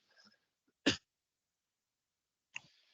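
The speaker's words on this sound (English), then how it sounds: "let me clear my throat" A single sharp throat-clearing burst, close and brief, with faint breathy sounds before and after in otherwise quiet surroundings.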